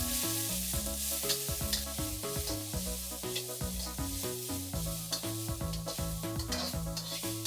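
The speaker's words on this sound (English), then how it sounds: "Then add the bean sprouts, along with a few teaspoons of oil. Stir that around for about 10 seconds" Bean sprouts hitting hot oil and stir-fried in a pan, a loud continuous sizzle behind a busy run of clinks and scrapes as they are tossed, over a background of steady tonal music.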